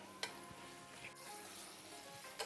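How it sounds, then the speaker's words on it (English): A faint, steady sizzle of onions frying in a pan, soft and continuous, with a couple of light clicks. "the smell is quite good when you have onions frying on a stove"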